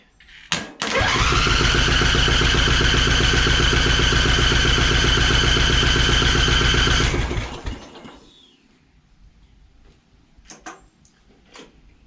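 A Craftsman riding mower engine cranks on choke, catches almost at once and then runs loud and steady for several seconds before being cut off and winding down, leaving quiet afterwards with faint knocks.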